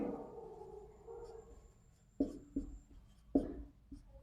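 Writing on a board during a physics lesson gives soft, close scratching strokes, with a few distinct taps marking the board, quiet and alone.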